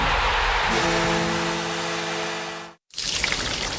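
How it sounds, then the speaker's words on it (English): Steady rushing water pours continuously, then cuts off abruptly before a brighter splashing resumes. "When this is the sound of a waterfall in nature"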